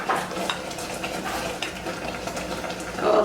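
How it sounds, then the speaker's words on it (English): Whole cranberries boiling in a pot on the stove, a steady broadband bubbling and simmering that swells slightly at the end, with no voices. "we are at a nice boil here"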